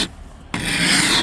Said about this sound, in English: you gotta use the claw side on this stuff